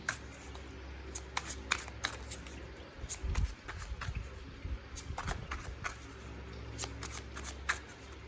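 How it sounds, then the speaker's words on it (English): Close, soft flicking and pattering of tarot cards from the Tarot of the Golden Wheel deck being shuffled by hand, repeated in quick bursts with a brief rustling pause in the middle. "Shuffling, riffle shuffle is fine too"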